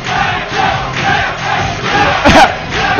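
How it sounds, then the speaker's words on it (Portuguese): Dense crowd of fans shouting and cheering at a King of Fighters XIII fighting game tournament top 8 in Brazil, a loud continuous roar of voices with surging chants and a brief sharper burst near the end. "tá uma guerra de grito aqui na torcida entre os dois"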